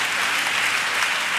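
A church congregation claps steadily, a dense, even wash of applause filling the room without pause.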